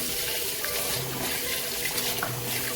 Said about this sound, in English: we are going to wash our rice. So I'm just going to add it to this bowl right here, and then going to wash it really well